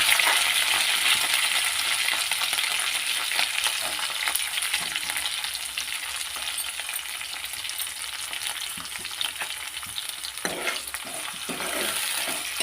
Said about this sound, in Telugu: కొద్ది నిమిషాల పాటు దీన్ని అయితే ఆయిల్లో ఫ్రై చేయాలి